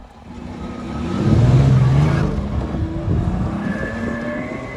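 Ford Escape with a homemade custom exhaust revving and driving hard over a small jump, a loud rising engine drone that swells and holds, fairly close.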